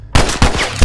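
Gunfire in The Last of Us Remastered on PS4, three loud, close blasts in quick succession, each heavy and booming, with no talk over them.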